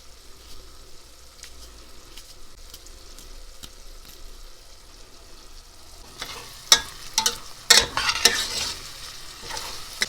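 Chopped garlic (six or seven cloves) sautéing in a pan for a Turkish dried okra and meat stew, with a soft low sizzle that turns into louder clattering stirring strokes in the last few seconds, and no voices.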